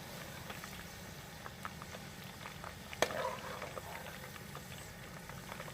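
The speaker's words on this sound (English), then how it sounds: "We're going to double fry these fries," Fresh-cut fries being double fried in hot oil over an open flame give off a faint, steady bubbling sizzle with light patter and one sharp click partway through.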